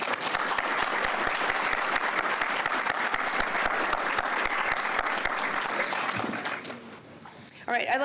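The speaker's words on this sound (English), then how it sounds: "Let's give a huge round of applause to our graduates" Large crowd at a transit operations graduation ceremony gives a loud, sustained round of applause for about seven seconds before it tapers off, with a voice briefly audible at the end.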